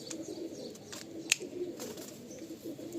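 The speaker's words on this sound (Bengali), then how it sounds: "এই এক পেয়ার ফুলসিরা পায়রা" A pair of Andhra pigeons coo softly and continuously at close range, low murmuring calls with one brief sharp click partway through.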